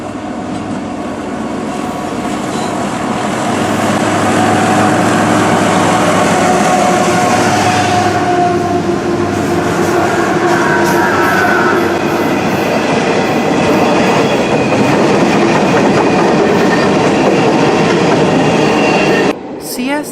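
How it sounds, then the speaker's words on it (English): A northbound CSX empty coal train rolls past on a single-track main line beneath a road bridge, a loud, steady rumble of wheels and cars that holds for the whole stretch before cutting off near the end. "we then noticed a northbound CSX empty coal train on the northern sub"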